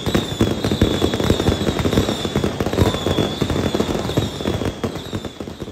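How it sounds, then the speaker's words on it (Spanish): Fireworks opening the burning at the 2023 Fallas festival in Valencia, a dense, continuous barrage of loud crackling bangs and pops with no pause throughout. "Los fuegos artificiales son los que dan el pitazo inicial de esta gran quema."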